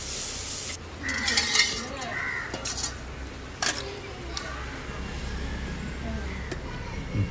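Fish curry being stirred in a pot in a village kitchen: repeated scraping and clinking of a utensil against the pot over a low simmering bubble, close and moderately loud, with some background voice.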